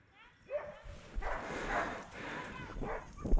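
Hunting dogs bark and yelp at moderate distance during a wild boar drive in the woods, a few scattered barks rising over rustling and voices.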